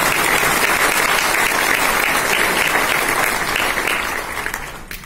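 Dense, steady audience applause fills a business programme hall, loud and continuous with no voices over it, thinning and fading toward the end.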